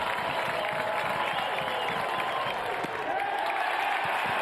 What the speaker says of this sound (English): So check out that OPS as the crowd gets on their feet.